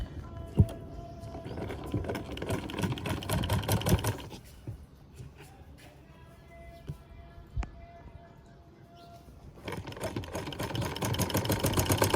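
A sewing machine stitches a sleeve cuff in two loud, rapid mechanical runs at the start and end, separated by a quieter pause with faint handling sounds.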